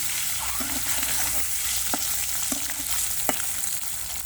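Eggs frying in a pan with salt and turmeric, a steady bright sizzle throughout with a few soft clicks of stirring, close and alone.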